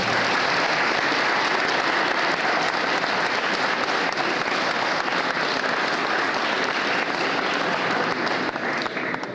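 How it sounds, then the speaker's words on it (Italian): Loud, sustained applause from a large gathering for the authorities at an Italian Unity Day ceremony in Orvieto, a dense, continuous clatter of many hands that carries on alone without talk. "Un applauso al neo presidente riconfermato dell'Opera del Duomo proprio in questa giornata."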